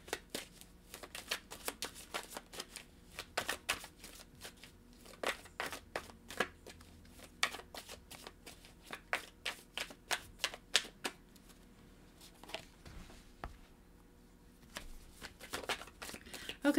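Tarot cards are handled and pulled from a deck in a quiet room, giving a long series of crisp, irregular card snaps and flicks up close, with brief pauses between bursts.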